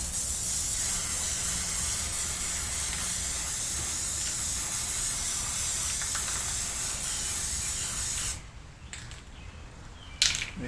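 A can of strong spray adhesive hisses in one long continuous blast, loud and close, then cuts out and leaves a few soft clicks and handling noises.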